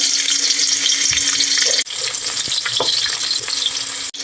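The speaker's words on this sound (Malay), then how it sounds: "Panas ke minyak? Tumis bawang holland." Loud, steady sizzling of onions sautéing in hot oil with occasional stirring clinks, filling the whole clip with a dense crackle.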